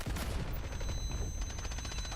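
Gunfire in the Delta Force shooter game, a dense rapid rattle of automatic shots that keeps going through the whole moment at moderate loudness, with no talk.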